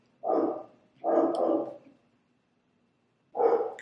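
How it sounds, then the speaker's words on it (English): A dog barks indoors in three separate bursts, each a short run of barks, with brief quiet gaps between them and no one talking. "she will not stop barking"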